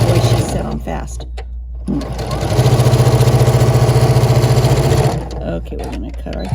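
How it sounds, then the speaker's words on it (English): A fast-set sewing machine stitching fabric to the end of a quilt block seam, a loud steady mechanical whir with a rapid rhythmic needle beat, close by, starting and stopping with short pauses. "Okay, so we're going to sew this and go all the way to the end."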